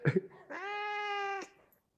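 A single drawn-out cat meow, close and clear, preceded by a brief soft rustle.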